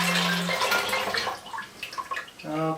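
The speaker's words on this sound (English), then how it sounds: "I stop with water only" Water rushes into a film developing tank as a stop bath, a steady gurgling pour with a rising tone as the tank fills, close and fairly loud.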